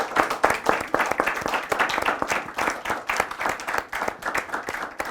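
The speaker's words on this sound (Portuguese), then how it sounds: "Vamos aplaudir José Ernesto Cartacho e agradecê-lo." Steady applause from an audience at a school testimony event for a former political prisoner fills the space with dense, continuous clapping, no voices on top.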